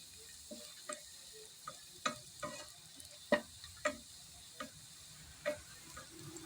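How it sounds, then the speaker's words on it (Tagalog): Garlic frying in a pan for a fish fillet dish: a quiet, steady sizzle broken by about ten separate stirring scrapes and clicks at irregular intervals, no voices. "Ayan, iba brown-brown lang natin yung ating bawang."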